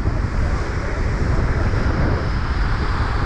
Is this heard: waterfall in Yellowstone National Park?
yes